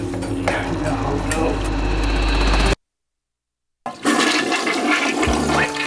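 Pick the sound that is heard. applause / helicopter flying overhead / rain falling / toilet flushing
toilet flushing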